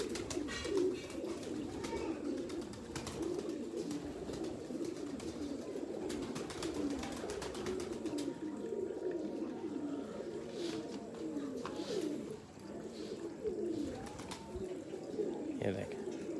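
Pigeons coo continuously in low, throaty rolling phrases, with several birds overlapping and faint chirps and background noise throughout.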